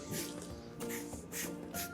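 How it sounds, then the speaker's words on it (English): A short pump-spray bottle of waterless wash cleaner mists onto the front of a Ford vehicle, giving a few quick, close hissing bursts in a steady rhythm. "spray a bit on, let it dwell for a few minutes."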